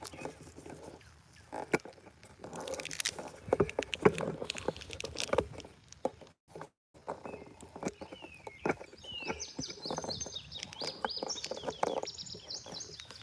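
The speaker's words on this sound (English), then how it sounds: "Got the sound of the birds." Birds chirp and sing intermittently in the background on a hiking trail amid scattered knocks and rustling, with a brighter run of trilling calls in the latter half.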